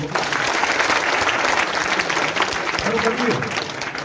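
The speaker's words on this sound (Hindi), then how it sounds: "तालियां बजाओ भाई को" A crowd at an honors ceremony for scheduled caste and tribe community members claps together, a loud, sustained burst of applause from many people, with a voice briefly audible through it.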